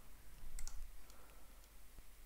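A computer mouse clicks a few times on a desk while files are downloaded and opened, sharp small ticks clustered near the start and one more later, faint and alone.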